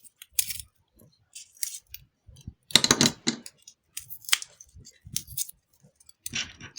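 Scissors snip a small well out of an Easter egg, giving a run of short crisp cuts and rustles at close range with pauses in between, and no one speaking.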